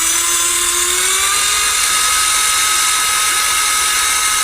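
Pin Zan 1:16 scale M35A2 military RC truck held at full throttle, its small electric motor giving a steady, loud, high-pitched whine that holds constant throughout.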